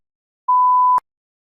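A single steady electronic beep, clear and isolated, lasting about half a second and ending sharply, marking the start of preparation time in a TOEFL practice test.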